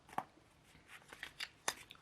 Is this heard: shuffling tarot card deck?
yes